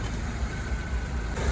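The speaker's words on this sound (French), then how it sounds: "Donc là on est donc sur le 4 cylindres BMW." A four-cylinder 1.9-litre engine in a BMW Z3 AC Schnitzer roadster idles steadily at close range, a low even rumble with no voices.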